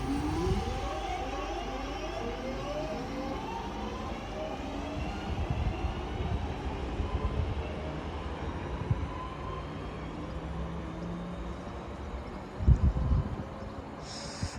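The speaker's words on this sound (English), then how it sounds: "Departing out now is the 1718 Northern service from Manchester Piccadilly to Stoke-on-Trent" A Northern passenger train pulls out of Manchester Piccadilly bound for Stoke-on-Trent, its rising motor whine and rumble steady on the platform, with a short clunk near the end.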